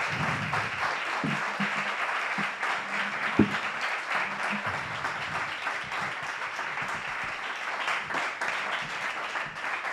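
Long, sustained audience applause at a startup talk in Barcelona, dense clapping from a sizeable crowd holding steady for the full stretch with only faint voices beneath.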